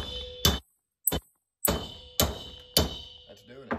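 Several sharp metallic bangs struck one after another with short pauses, each ringing briefly, a hammer hitting a hollow propane tank up close.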